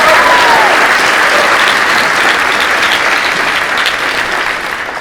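Loud, dense applause fills the room at a high school athletic commitment ceremony for swimmers, a steady roar of many hands that tapers slightly toward the end.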